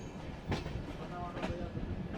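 Passenger train 17040 running from Goa toward Secunderabad, heard from onboard as a low rumbling rattle with two soft clanks, faint and steady under a murmur of background noise.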